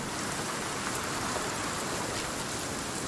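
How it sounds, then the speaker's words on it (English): Heavy rain falls steadily in the survival game Sons of the Forest, forming a loud, even hiss with faint scattered drops and no pauses or voices. "Sorry, it's raining and it's very loud."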